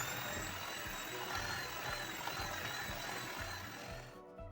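An electric mixer beats stiff shortbread dough with milk, whirring steadily up close with a rhythmic chugging throb, then winds down at the end, with no talking.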